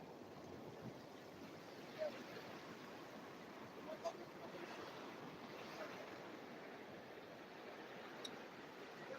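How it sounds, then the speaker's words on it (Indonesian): Ocean waves crash steadily on a southern beach, a broad continuous rush of surf with faint gusts of wind, while people talk over it. "Takut terseret ombak. Karena memang dahsyat ini."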